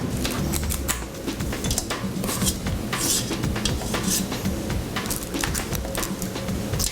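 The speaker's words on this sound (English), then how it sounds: "I'm just gonna put these on the pan about 2 inches apart" Dough for tropical lime-coconut crisp cookies being scooped and set onto a baking pan, a busy run of soft clicks, scrapes and taps close by, fairly constant with no talking.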